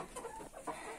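Chickens and young roosters murmur and cluck softly in a poultry coop, a faint, low-level stream of short calls with no voices present.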